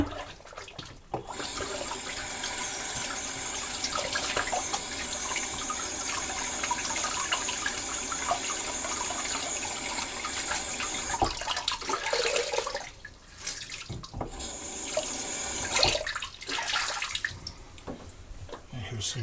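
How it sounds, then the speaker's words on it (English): Warm water runs steadily from a bathroom tap for about ten seconds, then stops and starts again in shorter bursts, with a person talking over it. "There's warm water."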